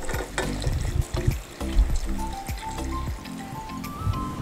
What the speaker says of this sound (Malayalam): കുറച്ച് വെള്ളം ഒഴിച്ച് വേവിക്കണം